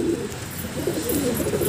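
A low, soft cooing from China pigeons kept at home rises in a few wavering phrases, close but fairly quiet, with no speech.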